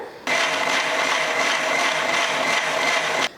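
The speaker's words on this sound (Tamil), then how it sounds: "இப்போ அரைச்சிட்டு வந்துடுறேன்" A kitchen mixer grinder blends juice for an Iftar recipe, whirring loudly and steadily for about three seconds after switching on sharply, then cutting off abruptly, with no talk over it.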